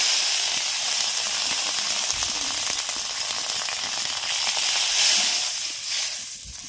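Kohlrabi sautéing in a pan as water goes in, a loud hissing sizzle and steam that stays strong, then swells and fades slightly toward the end, no voices.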